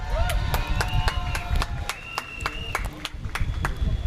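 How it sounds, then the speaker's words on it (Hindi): Panthers supporters in a cricket crowd at an ICPL 2022 silver final clap and cheer for their team, with sharp scattered claps and whistle-like tones over a constant crowd murmur, and voices mixed in. "जो पैंथर्स के साथ है एक बार जोरदार तालियां बजाए अपनी टीम के लिए"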